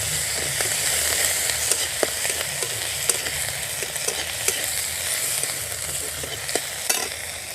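Ginger garlic paste hitting hot oil already holding chopped onion, panch phoron and bay leaf, a dense, steady close sizzle with scattered pops and light stirring scrapes throughout.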